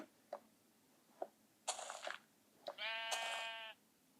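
Sheep in a video game, several short bleats spaced across a few seconds, building to a longer, clear wavering bleat, fairly close and heard alone.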